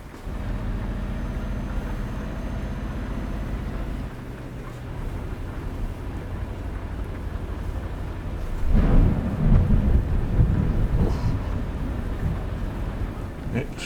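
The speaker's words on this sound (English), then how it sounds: "We've got thunder now." Rain falls steadily in the truck-driving game Euro Truck Simulator 2 while a deep rumble of thunder swells about two-thirds of the way through, all over constant road and engine noise.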